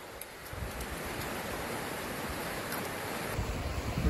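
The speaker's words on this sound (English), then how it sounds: "Look at that river just going, folks." A wilderness river rushes steadily in a dense, continuous roar, loud and close, with no voices and a slight swell toward the end.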